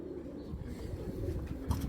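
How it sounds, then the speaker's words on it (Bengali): Giribaz pigeons from a Narayanganj club coo in a low, steady murmur, close by and continuous through a short stretch, with a brief brighter flutter near the end. "অরিজিনাল নারায়ণগঞ্জের ক্লাবের কবুতর"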